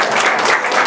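A brief burst of audience applause at an educator-of-the-year award event, a dense, lively patter of clapping hands lasting under a second.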